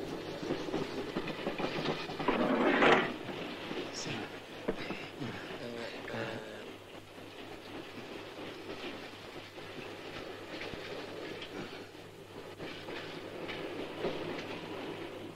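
A passenger train rolls along the rails with a steady rumble and faint rhythmic clatter, slowing at one point, with a brief louder burst near the start and quiet voices under the noise.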